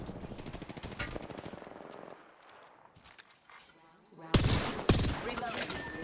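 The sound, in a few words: gunfire in a video game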